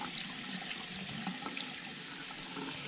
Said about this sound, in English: Rinse them properly.